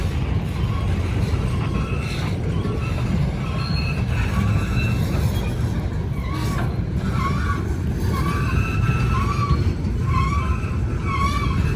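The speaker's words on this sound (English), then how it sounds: "Got a squeaky wheel here." Shrill, wavering squeals from a squeaky wheel on a backing train crossing a bridge, over a steady rumble of rolling rail cars, the screech rising and falling for several seconds.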